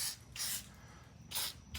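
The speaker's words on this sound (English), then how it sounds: "WD-40. Help it slide on there." Three short bursts of WD-40 aerosol spray hiss, close and moderately loud, applied to ease a plastic guide onto a part while building and installing a 5.0L engine in a 1986 Ford Bullnose F150.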